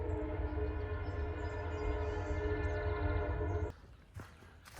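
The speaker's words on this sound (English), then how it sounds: "There goes a train down that track." A train rumbles past at close range on a track crossing the Appalachian Trail near Kent, Connecticut, with steady low droning and harmonic tones, then cuts off abruptly, leaving quieter ambient noise.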